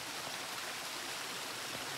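Steady rushing of flowing water, like a stream or fountain, fills the scene in the stealth game Hitman: Blood Money, a constant broadband wash at low level with no voices over it.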